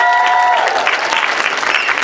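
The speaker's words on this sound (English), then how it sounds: "So you guys give these people a big round of applause." Loud, dense audience applause at a sales event, steady clapping that fills the whole moment with a faint crowd murmur behind it.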